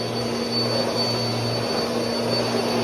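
Close and loud, a Bissell Power Force Compact single-motor vacuum drones continuously over hard flooring, its steady whine and low hum wavering slightly without pause and with no voices.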